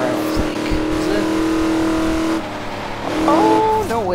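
Car accelerating in the racing video game Forza Horizon 3, engine tone rising and holding, then dropping and climbing again through gear changes, loud and continuous.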